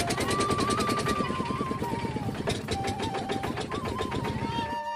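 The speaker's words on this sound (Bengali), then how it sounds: "এখন আমরা নৌকাতে চেপে গেছি" A river boat's engine chugs in rapid, even pulses throughout the crossing, loud and close, its tone wavering slightly as the motor runs.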